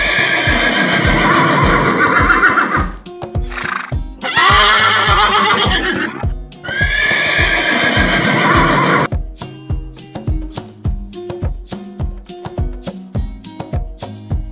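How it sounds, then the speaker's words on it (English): A loud horse whinnies in long, shrill bursts, three in a row, over a steady clip-clop of hooves that carries on alone afterward. "And the sound of the horse is..."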